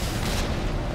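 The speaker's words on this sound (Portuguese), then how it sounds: "O tiro nem acerta o caminhão." Rocket launcher blast in Resident Evil 3 Remake, fired at a Umbrella Corporation truck during a descent underground: a dense, loud booming roar filling the whole second without a clear separate hit.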